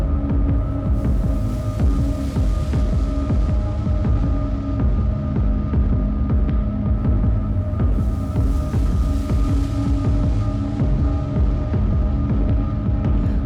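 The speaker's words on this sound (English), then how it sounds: "See, now the kick is like right there." Distorted synthesized kick drum with a darkened filter cutoff, a steady throbbing low thump repeating under a sustained tonal hum, loud and close with a little grit throughout.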